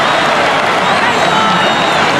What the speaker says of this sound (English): listen to the jeers, the Bronx cheer from the Essendon crowd